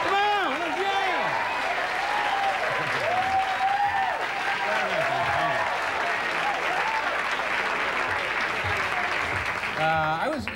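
An audience at a live concert in 1982 claps and cheers loudly and steadily, with voices shouting and talking through the applause.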